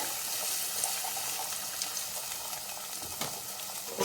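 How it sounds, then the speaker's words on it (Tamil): Tamarind water pours into a pan of sundakkai kuzhambu, making a continuous close liquid rush with faint bubbling and sizzling underneath. "ஒரு நெல்லிக்காய் சைஸ் புளி கரைச்சி வச்சுருக்கோம், அதை ஊற்றிக்கலாம்"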